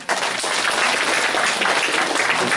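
Audience applause at a reconstruction association general meeting held in a church hall, a dense, steady wash of many hands clapping, loud and sustained throughout with no voices.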